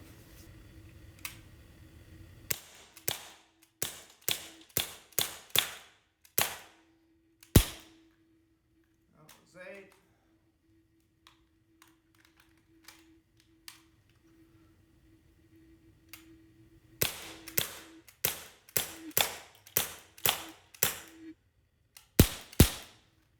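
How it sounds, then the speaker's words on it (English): A Gamo P-27 semiautomatic CO2 pellet pistol fires rapid strings of sharp shots at close range, 4 yards. Two bursts of quick cracks are separated by a quiet gap with a faint rattle. "Going to do a little bit of rapid fire with it."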